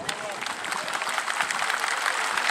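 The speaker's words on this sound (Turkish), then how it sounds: "Şu güzel tabloya siz sizlerden coşkulu bir alkış istirham ediyoruz." Crowd applause at an oil wrestling tournament in Gerze, a dense patter of clapping from many spectators across the whole stretch, with an announcer's voice over the public address under it.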